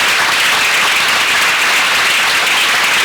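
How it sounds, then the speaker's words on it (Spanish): Strong, steady applause from an audience at a commemorative ceremony in Pamplona, a dense continuous wash of clapping filling the whole stretch with no break. "os pido un aplauso porque han colaborado con nosotros"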